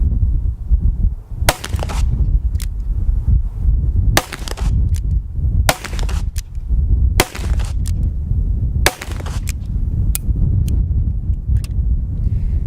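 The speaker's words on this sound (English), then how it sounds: "Quite a bit more punch, but the 357 Magnum is quite a tolerable round." A .357 Magnum revolver is fired outdoors in a series of sharp, loud shots spaced about a second or two apart, heard over constant wind noise.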